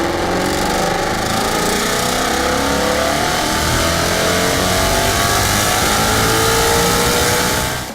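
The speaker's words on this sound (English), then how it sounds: "And that exhaust note, that is the way cars were meant to sound." Performance sports car engine revving hard, its loud exhaust note rising and falling steadily and close up for the whole stretch, with no talking.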